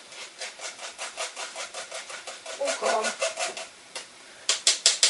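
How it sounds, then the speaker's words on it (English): A spatula presses lumps of cocoa powder through a metal sieve with a steady series of rhythmic scraping rubs, close and fairly loud, ending in a few sharper strokes. "You can use your spatula to get any lumps that the cocoa might have made in the bottom of the sieve."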